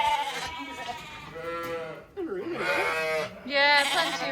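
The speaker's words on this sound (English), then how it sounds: "These are all lambs that were twins or singles, and as you can see, they're visibly quite a lot bigger." Sheep and lambs on a farm bleating loudly and close, several overlapping calls in a row, with some sounds low and moo-like and others high and wavering.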